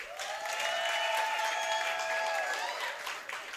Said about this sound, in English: Can we please give you a huge round of applause?